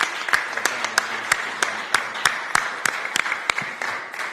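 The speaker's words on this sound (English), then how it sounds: "Let's give our panel a round of applause." An event audience applauds a panel at a live gathering in Orlando, a dense crowd of clapping with sharper individual claps standing out, loud and continuous.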